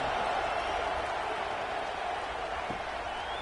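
A stadium crowd in a college football video game cheers ahead of a kickoff, a dense, even wash of roaring noise that holds steady throughout without clear breaks.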